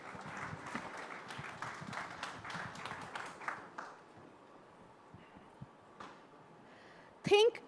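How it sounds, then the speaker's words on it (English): Applause from an audience at a large AI summit in India, a dense burst of clapping for several seconds that fades into a quieter room, with a voice present. "A huge round of applause, please."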